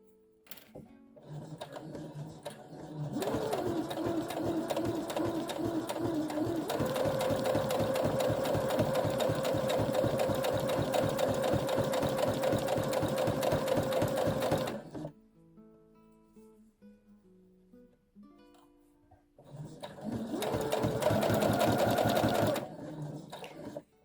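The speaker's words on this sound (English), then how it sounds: "you don't need to push it through, the machine's taking it through" A sewing machine runs steadily while feeding fabric through a straight seam, a dense rapid stitching chatter lasting about twelve seconds, then a pause before a second shorter burst; no talk over it.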